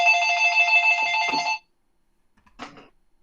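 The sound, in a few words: old-fashioned telephone ringing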